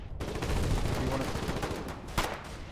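Gunfire in the war game Foxhole, a dense burst of rapid shots and cracks with a sharp louder report near the end, close and continuous.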